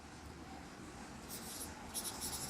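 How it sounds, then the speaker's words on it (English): Writing by hand during an English grammar lesson, a soft continuous scratching of pen or marker on a surface, faint and steady with slight rises toward the end, no talking. "I'm trying to write"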